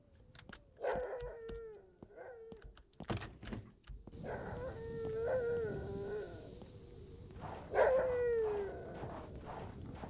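A dog in the horror video game Terrors To Unveil barks several times in short bursts, with a howl-like whine, over game ambience and jangling sounds.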